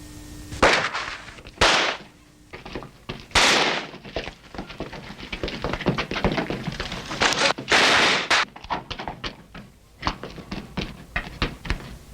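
Gunshots from a sniper ring out during a World War II battle scene in Manila, with several loud, sharp cracks echoing at irregular intervals between bursts of smaller snapping impacts.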